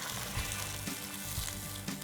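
Ginger garlic paste fries with onions in hot oil, giving a soft, even sizzle broken by a few faint taps.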